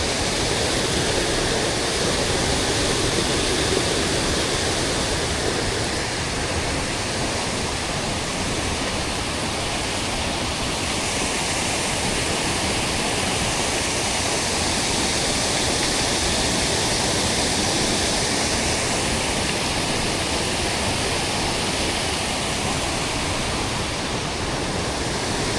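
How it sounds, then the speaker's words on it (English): Diverted river water rushes continuously near old powerhouse ruins beside a river trail in a Georgia state park, a loud, even roar of flowing water with no breaks. "this is just the water that they diverted"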